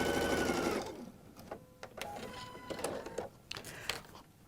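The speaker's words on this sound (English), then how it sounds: "I'm able to take my pin out and hold the fabric under the needle while I sew." A home sewing machine stitches a fabric seam, with a loud continuous whir at first, then short bursts of stitching and clicks.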